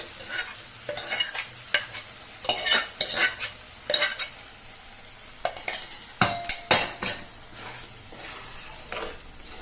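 Mashed toor dal stirred into a pan of ridge gourd: repeated scraping and clinking of a metal spoon against the pot in irregular bursts, close and fairly loud, over a soft continuous sizzle, with no speech.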